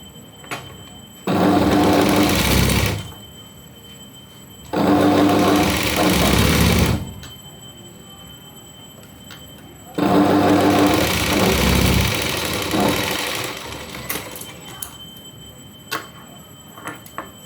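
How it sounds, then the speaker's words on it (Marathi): Sewing machine stitching a blouse yoke strip, running in three loud bursts of about two seconds each, separated by short pauses with faint clicks. "आपल्याला इथे एक शिलाई मारायची दाब शिलाईकडे खालच्या साईडने या साईडने एक शिलाई मारायची आहे"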